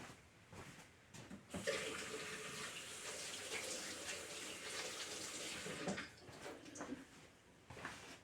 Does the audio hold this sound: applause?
no